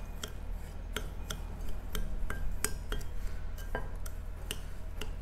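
Melted butter being mixed into a crumbly cheesecake base in a bowl, sharp spoon clinks and taps against the bowl at an irregular pace over a low steady hum.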